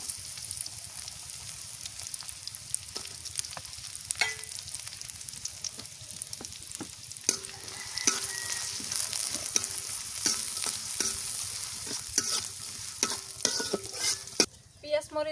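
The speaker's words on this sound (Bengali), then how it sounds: "পেঁয়াজ মরিচ ভাজা হয়ে গেছে" Chopped onions and slit green chilies sizzle in a pan, a soft steady fry punctuated by scraping stirs that grow busier toward the end, close and without talk.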